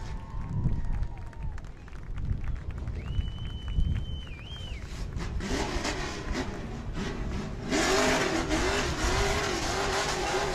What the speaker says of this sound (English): Lassard going to do a little victory burnout for you